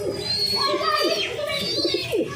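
Pigeons coo close by in a few soft, rolling, throaty calls that overlap one another over a short stretch.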